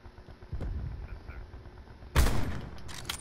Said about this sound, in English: That's me shooting over your head.